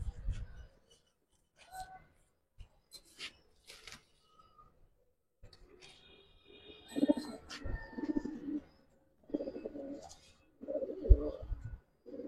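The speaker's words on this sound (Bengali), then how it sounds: "লাফালাফির জন্য কবুতর গুলো সুন্দর দেখাইতে পারতেছে না" Giribaz pigeons in a coop give soft intermittent coos and low rumbling calls with brief flutters and scrapes, quiet and sparse with gaps of silence between bursts.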